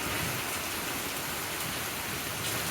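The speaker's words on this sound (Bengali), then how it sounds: "মারাত্মক বৃষ্টি হলো" Torrential rain falls in a constant roaring wash of drops on surfaces, loud and close, with no talking.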